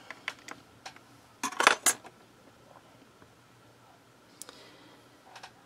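A blade cuts through a sheet of polymer clay, leaving a few sharp clicks and taps, the loudest a quick double clack near the middle, with faint ticks scattered around it in a quiet room.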